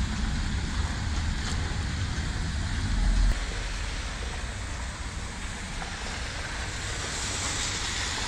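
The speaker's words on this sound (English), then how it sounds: "Oh, it's a waterfall?" A waterfall roars with loud, dense, unbroken rushing noise that stays steady from start to finish, with a brief heavier low rumble partway through.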